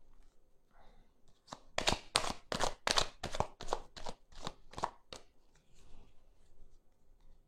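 Tarot cards shuffled and drawn for a reading, a quick run of crisp riffling snaps and slaps close up, clustered in a dense burst then thinning into a few separate flicks, with no voices.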